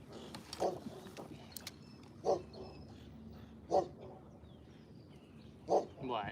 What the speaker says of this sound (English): Hey, pupper, don't bark at me.